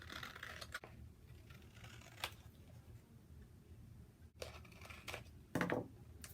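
Scissors snip out a piece of paper artwork in a few separate cuts, quiet and close, with soft rustling of paper between the snips.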